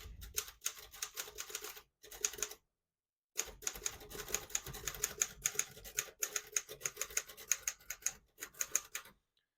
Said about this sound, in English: That sentence that I typed, I wasn't hitting it that hard.